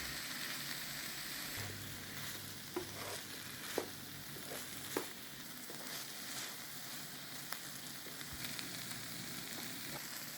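Zucchini and green onions sizzle steadily in a hot pan for a garlic-lemon sauté, a continuous soft frying hiss with occasional faint clicks of a utensil stirring through the vegetables.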